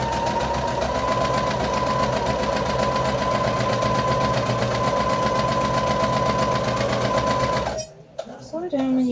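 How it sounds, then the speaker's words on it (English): A sewing machine runs steadily, stitching a foundation paper pieced Christmas star with a continuous motorized whir, loud and close, then stops abruptly near the end as a person talks over the hum throughout. "Press the foot, needle down, press the foot up, spin, press the foot down"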